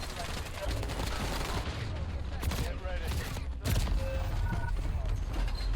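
Rapid gunfire rattles through a firefight in the video game Rebirth, dense overlapping bursts and shots that stay loud and close throughout, with a brief dropout partway through.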